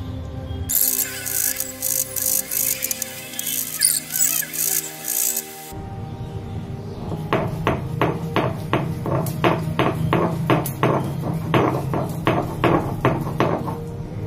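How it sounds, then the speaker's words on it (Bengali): Soaked lentils ground by hand into paste, heard as steady, rhythmic rubbing and scraping strokes repeating closely together, after a different scraping sound at the start. "আপনারা এটাকে মিক্সিতেও বেটে নিতে পারেন, কিন্তু আমি হাতে বাটাটা সবসময় প্রেফার করি"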